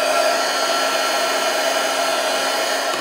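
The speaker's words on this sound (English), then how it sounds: "If you're short on time, you can use your handy dandy heat tool." A craft heat tool blows steadily to dry shimmer paint on a papercraft project, a constant loud whirring hiss of fan and hot air held for the whole stretch without change.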